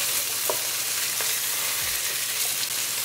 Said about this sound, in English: We're going to cook the fish until it turns golden brown at the bottom.